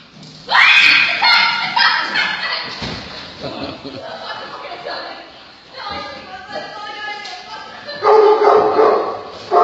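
A dog barks and yips loudly in bursts during personal protection training, with whimpering between outbursts and a voice speaking amid the noise.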